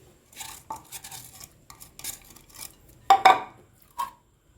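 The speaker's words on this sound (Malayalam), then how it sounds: "നമുക്കതിൽ അരിഞ്ഞു വെച്ച സവാള ഇട്ട് കൊടുക്കാം." Chopped onion tipped onto shredded banana flower in a pan, with close clinks and scrapes of a spoon against the pan and a few sharper metallic taps in short bursts.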